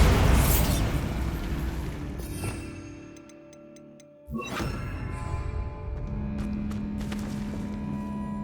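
Bombarda spell explosion in the video game Hogwarts Legacy: a sudden loud blast bursts out midway after a quieter stretch, followed by a sustained rumbling, crackling tail.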